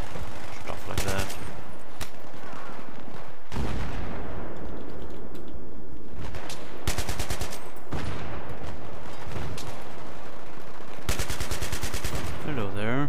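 Machine gun and assault rifle fire in the Battlefield 3 video game, with sustained loud automatic bursts that come back in several long volleys amid battle noise.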